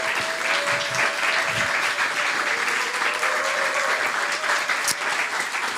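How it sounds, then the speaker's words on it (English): An audience at an evening panel on frontline resistance to fossil fuel finance applauds the panelists, a steady, dense clapping that fills the room for several seconds with no talk over it. "let's give them a round of applause"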